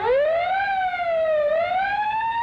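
A loud siren wails continuously, its pitch sliding up and down in a smooth rising and falling sweep, close and alone.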